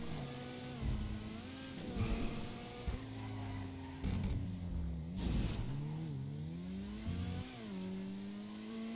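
A car in GTA drives with a steady engine drone that rises and falls as it accelerates, shifts and slows through turns, moderately loud and uninterrupted, with no talking.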